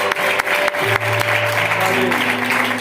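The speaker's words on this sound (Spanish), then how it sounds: "Aplaude a Dios," A church congregation applauding God during a sermon, dense clapping with vocal tones and shouts layered over it, over a few seconds.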